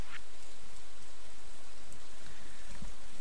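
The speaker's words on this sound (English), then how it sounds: "today it's raining" Steady broadband rain hiss in the farming game Stardew Valley, a soft continuous patter with no other sounds over it.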